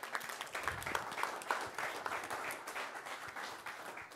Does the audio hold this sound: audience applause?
yes